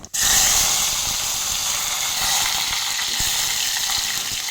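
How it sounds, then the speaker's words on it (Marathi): Mustard seeds, cumin and curry leaves crackle in hot oil for a tadka in a green chili chutney recipe, giving a loud, steady sizzle throughout after a brief opening knock. "बघा, आपला तडका खूप छान झालेला आहे।"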